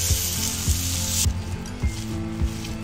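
Chana dal filling roasting in a pan, a steady hiss of sizzling with a spoon clacking against the pan about every half second, close-up; the bright frying hiss drops away partway through.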